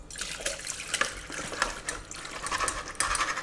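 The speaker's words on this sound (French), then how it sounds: "On va filtrer la marinade." Liquid from a beef cheek marinade strained in a kitchen, a steady close pouring and splashing stream with fluctuating spatters, no voices.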